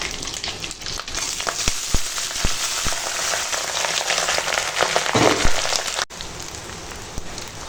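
Rice tossed in a mix of white oil and ghee with cashews and raisins, giving a steady crackling sizzle broken by sharp scrapes and clicks of stirring, close and fairly loud, with a brief drop near the end.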